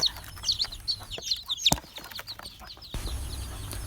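A hen clucking and chicks peeping in a rapid, busy chorus, fairly close, with a sharp bang partway through.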